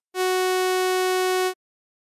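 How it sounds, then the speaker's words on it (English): A sawtooth wave tone rings at a steady pitch with a harsh, bright, buzzy timbre full of overtones, loud and even for roughly one and a half seconds, then stops abruptly. "sawtooth wave."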